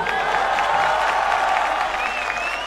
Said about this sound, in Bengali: কাজে ওর জন্য একটা জোরে হাততালি হোক